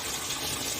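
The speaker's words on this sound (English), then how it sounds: "So immediately the water gets to the brim or to whatever level." Water steadily gushing into a concrete catfish hatching pond, a continuous close rushing and splashing with no talking.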